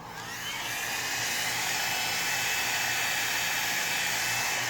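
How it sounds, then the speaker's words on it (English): A handheld hair dryer runs steadily and close, drying Mod Podge on a gnome string art board, its broad airy whoosh with a high whine holding constant after a quick spin-up, with no talking. "So I'm going to hit it with a hairdryer"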